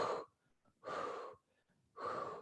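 Three forceful breaths, pushed out in a steady rhythm during an exercise workout, each lasting about half a second, close and clear with short quiet gaps between.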